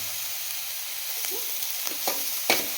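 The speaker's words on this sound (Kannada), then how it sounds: "ಚೆನ್ನಾಗಿ ಈರುಳ್ಳಿ ಮಾತ್ರ ಸಖತ್ತಾಗಿ ಫ್ರೈ ಆಗಿದೆ" Onions sizzling in a pan for avarekalu sambar, a soft steady frying hiss with a few spoon scrapes and taps near the end, close and brief.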